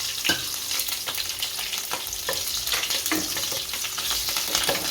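Chillies crackle and sizzle in hot oil with mustard seeds for upma, a close, loud frying hiss with sharp pops and spoon stirring throughout.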